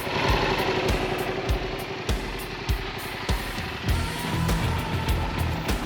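A motorcycle engine runs steadily at idle, a close, loud, throbbing drone with regular low pulses and a few brief revs, heard alone without talk.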